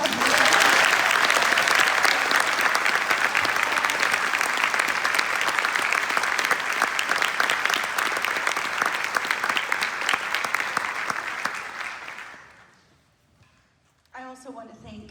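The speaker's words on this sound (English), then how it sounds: "I think we should give them another round of applause." Audience applause for a student honor band of wind players at a Central Coast school concert, steady and loud clapping from a large crowd for about twelve seconds before fading out, followed by faint scattered sounds.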